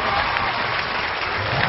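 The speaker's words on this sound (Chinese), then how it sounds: "我们再次用掌声来欢迎王富丽和王骁" Studio audience on a Chinese celebrity talk show applauds steadily to welcome two guests, an actress and her son; dense, continuous clapping fills the room with no talking over it.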